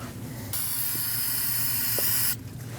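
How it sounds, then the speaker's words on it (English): Brake parts cleaner sprays in a steady, close hiss for about two seconds onto the brake of a 2013–2019 Ford Escape during a brake hose job, with quieter shop ambience before and after. "I'm going to use some brake parts cleaner to rinse it"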